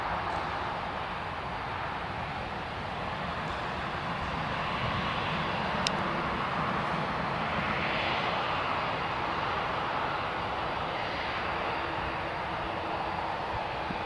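Airliner jet engines, likely the Ryanair Boeing 737 parked at Newcastle International Airport, give a steady, loud, unbroken roar with a faint high whine throughout.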